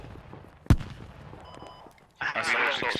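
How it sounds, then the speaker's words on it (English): A single sharp blast from the Squad video game, followed by quieter scattered shots and then a dense burst of rapid gunfire and explosions near the end, with voices chatting in the background. "I saw some explosions."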